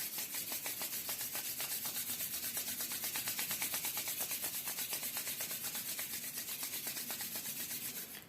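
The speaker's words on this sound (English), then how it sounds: "we're going to begin by rubbing our hands." Palms rub briskly together in a steady, even back-and-forth rhythm, a continuous dry swishing that stays close and unbroken for several seconds, with no voices.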